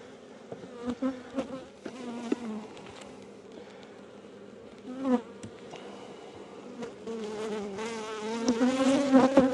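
A dense, steady buzzing of many honeybees at a hive, close by and continuous, with swells in intensity and a louder churning burst near the end.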